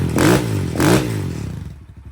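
A Kawasaki KLX110L dirt bike with a stock 22 mm carb runs loud and close, revving in two quick pulls before settling into a steady, slightly flat drone.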